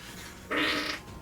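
A single loud, close fart from someone at a tabletop role-playing game session bursts out for about half a second between quiet stretches, with no talk over it.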